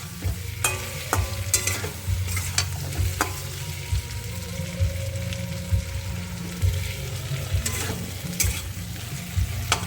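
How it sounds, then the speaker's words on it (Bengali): Potatoes and tomatoes frying in a pan are stirred steadily, a continuous close sizzle broken by regular scraping and knocking of the spoon against the pan, alone without talk. "আলুর সঙ্গে টমেটোর সাথে ভেজে নেব একটু ভালো করে"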